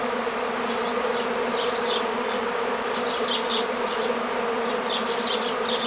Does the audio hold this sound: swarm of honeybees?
yes